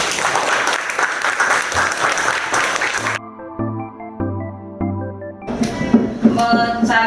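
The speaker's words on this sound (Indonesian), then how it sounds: "Kita kasih tepuk tangan untuk" Classroom applause after a group presentation on identifying short stories, a dense burst of clapping for about three seconds, then a music-like tonal passage, followed by renewed noisy activity.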